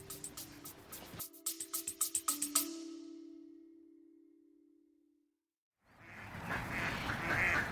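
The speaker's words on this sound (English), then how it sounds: "The ducks at High Ash Farm going in to roost for an evening" Ducks at High Ash Farm quack in a quick run of sharp calls while heading in to roost for the evening, followed by a long fading tone, silence, then a burst of broad outdoor noise.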